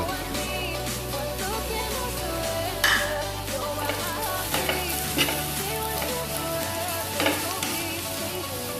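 Sliced onions with ginger sizzle steadily in a pan while a spoon stirs them in repeated scraping strokes, close and clear over a low steady hum, with no one talking.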